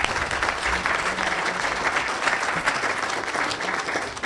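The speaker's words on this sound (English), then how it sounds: "Ladies and gentlemen, round of applause." A dense, steady round of applause from a large audience at a business event, filling the room evenly without letting up and with no talk over it.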